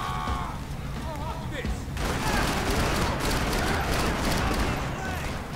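Gunfire in the video game Max Payne 3 during a bar fight, a sustained rattle of shots building after a quieter opening, with a voice speaking over parts of it.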